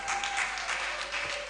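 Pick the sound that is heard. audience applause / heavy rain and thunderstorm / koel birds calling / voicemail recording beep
audience applause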